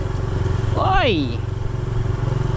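Motorcycle with a carburetor fault running on a muddy, potholed road, a close, steady chugging throb throughout, briefly overlaid by a short, loud shouted exclamation.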